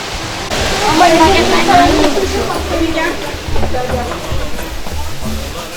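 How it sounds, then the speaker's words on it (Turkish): Water rushing vigorously beneath a building in Kemaliye, Erzincan, a steady loud broadband roar like a small waterfall or stream, continuous throughout with faint voices mixed in. "Onun altından hemen sular akıyor coşkulu bir şekilde."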